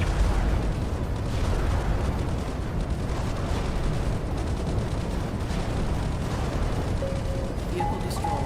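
Deep, rumbling blasts from a vehicle being destroyed in the strategy game ICBM: Escalation, with a steady low roar sustained throughout, loud and dense, with no voices.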